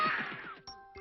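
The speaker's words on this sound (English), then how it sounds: "Just then the doorbell rang." A doorbell chimes in a short two-note ding-dong, clear and near, with a bright tone that rings on and decays, then a second tone strikes briefly at the end.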